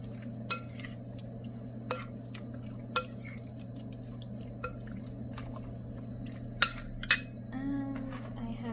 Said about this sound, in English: I'm going to give it a nice little stir.